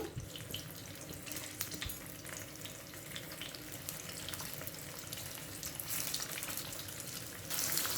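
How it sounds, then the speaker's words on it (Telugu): Bitter gourd pieces fry in a small amount of hot oil in a pan, giving a steady, moderately loud crackling sizzle that continues throughout, with no talking. "నూనె వేడెక్కిన తర్వాత ఈ కాకరకాయ ముక్కల్ని వేసేసుకొని కొన్ని కొన్ని ఫ్రై చేసేసుకోవాలి"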